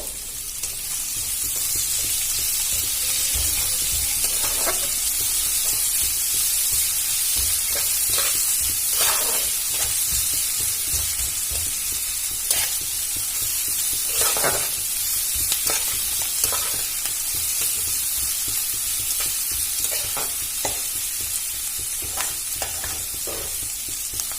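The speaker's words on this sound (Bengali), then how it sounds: "এবার এর মধ্যে অ্যাড করে দেবো কুচানো পেঁয়াজ দিয়ে ভালো করে ভেজে নেব" Chopped onions fry steadily in a pan with a constant bright sizzle, broken by occasional scraping stir clicks, close and continuous throughout.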